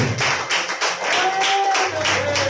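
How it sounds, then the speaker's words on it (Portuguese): A church congregation at a worship service claps together in quick, rhythmic bursts, fairly loud and close, with a sustained musical tone running underneath. "Pode aplaudir o Senhor, igreja."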